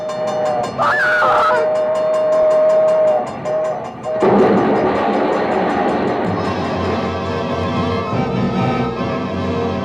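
Train approaching a crossing in a 1947 radio drama, with a steady rumble and a sharp honking horn blast near the start, growing louder into a dense rolling clatter while a voice calls out briefly.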